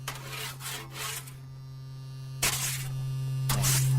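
A steady low electrical hum drones from inside the Martian object in a radio drama, constant throughout, with louder scraping, rasping bursts near the start, around two and a half seconds and at three and a half seconds.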